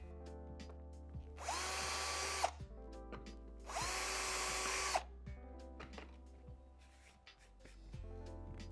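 A power drill with a 2.5 mm bit whirs up twice in short bursts, boring small 4-5 mm deep holes in wood for a hinge mounting plate, with quiet handling clicks and taps between and after.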